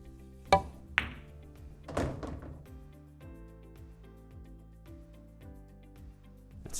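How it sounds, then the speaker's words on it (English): Pool cue tapping the cue ball for a follow shot, then balls knocking together: two sharp close clicks followed by a duller thunk, after which a steady low hum carries on with no further impacts. "all I have to do is a follow shot, bring the cue ball out here"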